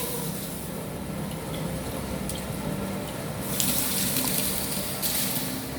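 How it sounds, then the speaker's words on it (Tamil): Dry rice tipped into a pot of water while making an Arabian sweet, a steady running, sloshing wash of liquid with a brief brighter splash surge partway through, close and alone. "இப்போ அரிசியை போடுறோம்."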